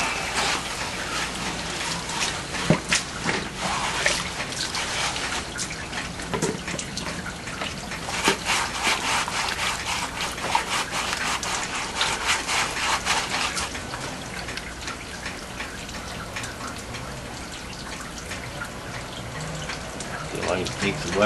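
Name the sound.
water running through a highbanker screen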